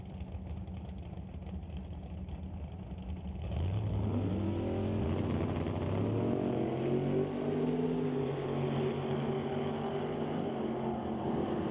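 Drag race cars, a Nova and a Camaro, launching down the strip: a loud engine roar surges at about three and a half seconds, the pitch climbing through gear changes and holding a sustained full-throttle howl.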